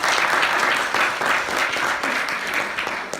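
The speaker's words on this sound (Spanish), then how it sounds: "Démosle ese aplauso fuerte al Señor." A church congregation applauds the Lord during a sermon, with many hands clapping in a steady, dense roar that stays loud and even throughout, no voices standing out.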